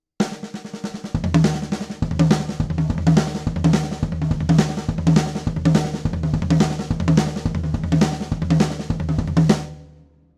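Gospel drum fill played on a kit with right-left-left sticking combinations, a dense rapid run of drum strokes over a steady low pulse, loud and close throughout before stopping abruptly.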